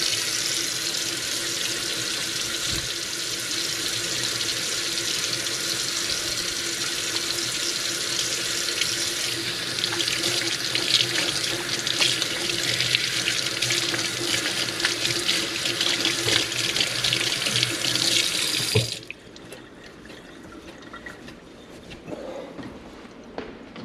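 A kitchen sink tap runs at full flow for about nineteen seconds, a loud steady hiss of water splashing into the basin, then shuts off, leaving a quieter room with faint drips and small handling sounds.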